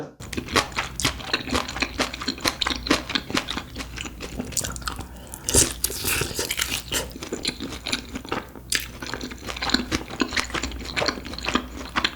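Crisp fried pork cutlet being bitten and chewed up close, with loud repeated crunches and wet chewing over a steady bed of mouth noise, no talking.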